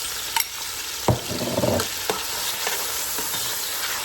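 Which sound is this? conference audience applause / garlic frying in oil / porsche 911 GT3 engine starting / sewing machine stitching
garlic frying in oil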